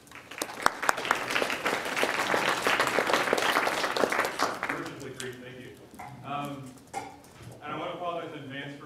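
Symposium audience applauding to welcome a speaker, a dense sustained burst of clapping lasting several seconds before a voice starts talking as the clapping fades.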